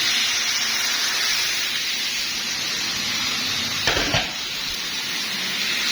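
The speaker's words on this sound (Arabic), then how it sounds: "هنحط نص كوبايه ميه" Half a cup of water poured into a pot of hot cooking rice stuffing, giving a steady loud hiss and sizzle throughout with a brief sharper splash near the end, close up.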